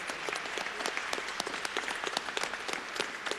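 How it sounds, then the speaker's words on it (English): Steady applause from a sizable crowd at an awards ceremony, dense overlapping claps sustained throughout at moderate distance, with faint murmurs underneath. "please give a round of applause."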